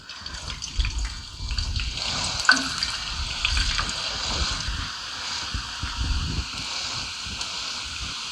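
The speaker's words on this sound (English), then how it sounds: "we're going to let these fry for about 3 minutes or so" Potato French fries frying in hot oil, a steady broadband sizzle and bubbling with some clatter and stirring bumps, fairly close and moderately loud throughout, no voices.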